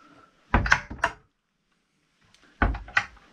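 Storage cupboard doors and drawers on a 2017 Aquastar 430 aft cabin yacht, heard as two close pairs of wooden knocks and thunks about two seconds apart, with a quiet pause between them.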